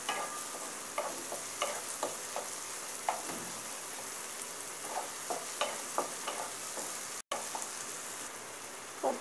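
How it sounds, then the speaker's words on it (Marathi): Prawn masala ingredients sauté in a pan over a low to medium flame, giving a steady soft sizzle with scattered stirring scrapes and clicks throughout. "हे सर्व लो टू मीडियम फ्लेमवर आपल्याला परतून घ्यायचं आहे।"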